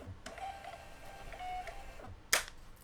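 A Rollo label printer runs through a shipping label, giving a soft, steady mechanical whir with faint ticks, then a short sharp burst near the end as the label feeds out.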